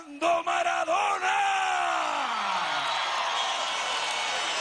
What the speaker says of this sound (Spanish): Una ovación de amor y cariño para Diego Armando Maradona.